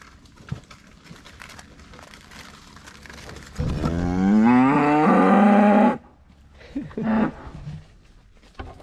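A single loud, drawn-out moo from a nearby cow, followed by a shorter low call and some faint rustling.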